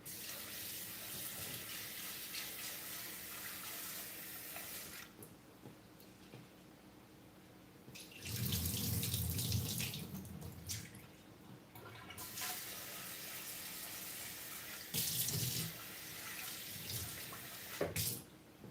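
A kitchen tap runs water into a pot for stew, a bright hissing splash that starts and stops in several bursts, with a fuller, louder gush in the middle and quieter gaps between.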